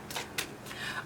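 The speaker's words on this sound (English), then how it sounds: "I feel like you need a little more shuffle." Tarot cards being shuffled by hand, heard as three quick, soft papery riffling bursts spread across a second, fairly faint and close with no talking.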